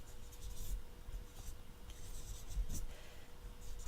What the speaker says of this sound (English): I like the gel pens and felt tips as well, and we can start to write the words or draw things